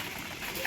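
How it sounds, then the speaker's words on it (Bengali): A pair of doves coo in one brief, close call over a soft background hiss. "শুভদা দুটো ঘুঘু রয়েছে"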